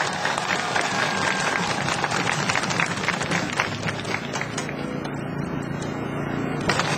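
Crowd at a tenants' rally in front of the National Assembly applauding a lawmaker's introduction, steady mixed clapping with a dense outdoor wash that thins toward the end.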